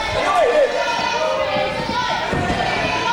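A wrestling crowd at an AWF event in Mt Druitt cheers for Space Boy, a broad roar under a commentator's voice.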